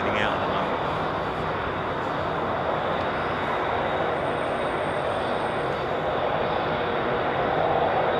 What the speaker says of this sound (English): the engines on that Qatar jet are sort of like drowning everything out at the moment.